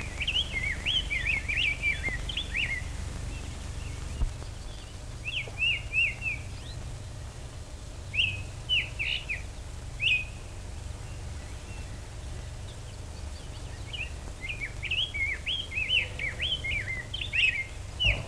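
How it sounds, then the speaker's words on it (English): Historic early field recording of a singing bird in North America, with bursts of high, warbling song phrases repeating over a steady low hiss and rumble, several clusters spread across the span. "you're listening to the very first recording of a singing bird ever made in North America"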